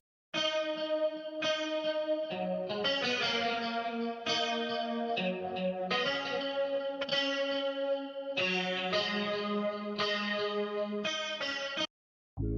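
Heavily processed software guitar playing a melody for an R&B soul sample, layered with chorus and echo-like effects; sustained chords and notes in phrases, steady and loud throughout, with a brief dropout near the end.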